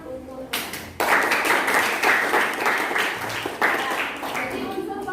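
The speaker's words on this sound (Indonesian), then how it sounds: "Oke, tepuk tangan untuk Reta." Classroom audience applauding a student during a teaching practice session, a burst of clapping that starts abruptly and carries on steadily, with a brief lead-in and fairly close, loud hand claps throughout.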